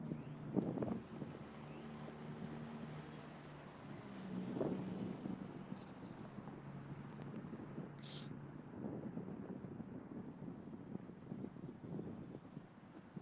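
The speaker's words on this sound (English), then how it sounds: "Because it's windy out here and I can't let go" Gusting wind buffets the microphone outdoors as a continuous low rumble across the whole stretch, rising and falling slightly, with faint scattered background sounds.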